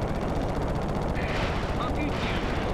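Rapid gunfire from a weapon in the Ratchet & Clank video game, a dense run of crackling shots over continuous game noise.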